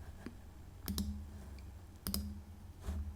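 Computer mouse clicking while editing sports graphics, crisp close clicks that mostly come in quick double-click pairs over a faint background hum, with no voice.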